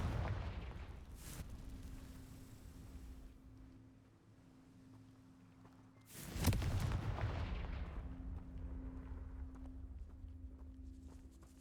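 A Confringo blasting spell goes off in Hogwarts Legacy, a sudden loud explosive burst midway through that rolls into a sustained rumbling wash over a steady low game ambience.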